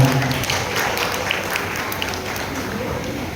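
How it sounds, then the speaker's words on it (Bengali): An audience applauding at a computer institute gathering, a dense, fairly loud wash of clapping that holds steady for the whole stretch. "তাই সকলের জন্য একবার জোরে হাততালি হয়ে যাক।"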